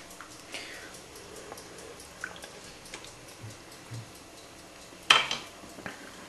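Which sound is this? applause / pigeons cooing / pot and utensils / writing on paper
pot and utensils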